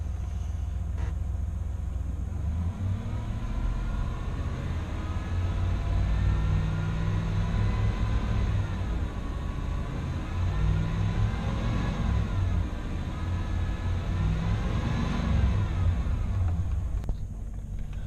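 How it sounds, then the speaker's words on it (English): A Ford Bronco engine runs steadily for a long stretch, a constant low rumble with a few gentle swells in pitch that suggest light revving before settling back to idle. "I'm going to rev it up a little bit and then let it run for a couple minutes"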